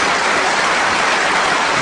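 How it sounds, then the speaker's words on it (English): A snooker crowd applauds a championship shot on the black during a 143 clearance, a loud, dense, continuous roar of clapping at constant strength. "and a tremendous round of applause"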